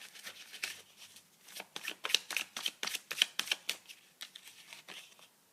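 Playing cards shuffled for a tarot-style card reading, a run of quick riffling bursts in an irregular rhythm, close and fairly soft, with no talk.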